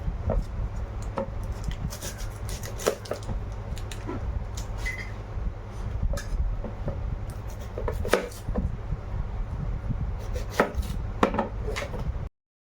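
A knife chopping potatoes on a cutting board, steady rapid close taps over a constant low background hum, with no voices.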